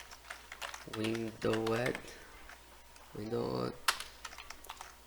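Quick, close clicking of keys on a computer keyboard runs throughout, partly under a man's speech.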